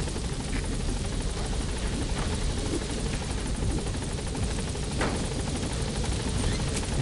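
A helicopter in the Metal Gear Solid V game, hovering while trying to land at a landing zone, gives a steady, loud rotor and engine drone that fills the whole stretch with little change.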